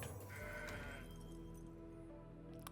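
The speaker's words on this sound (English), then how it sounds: "Goat." A goat bleats in a digital card game, a single wavering cry standing alone over quiet background game music.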